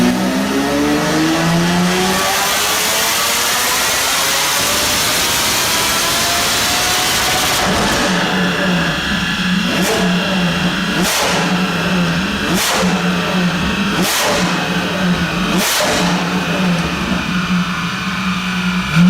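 Lamborghini Diablo V12 on a dyno, loud sustained revving that sweeps up toward the limit, then settles into a hard drone broken by a series of sharp bangs or cuts repeating about every one and a half seconds, near and alone.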